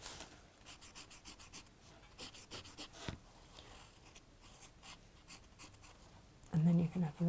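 A dressmaker's pencil scratches out the letter R on fabric in a string of short, rhythmic strokes. It is close and quiet, and people talk over it near the end.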